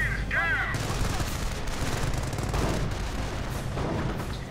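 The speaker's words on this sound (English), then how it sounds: "The mortar's actually doing good work" Mortar blasts and sustained gunfire in the Company of Heroes video game, a dense, continuous barrage of overlapping shots and booms with no pauses, loud and busy throughout.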